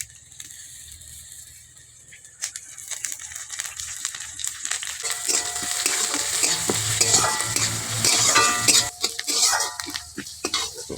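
Spices fry in mustard oil in a pan for a taro mash, starting quiet with scattered clinks, then building into a loud, dense sizzle with scraping stirs and utensil knocks against the pan.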